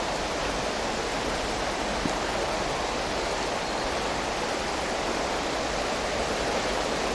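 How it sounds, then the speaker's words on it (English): Continuous broadband rush of river water running over newly formed rapids, an even, unbroken roar heard alone without voices. "The river now has rapids."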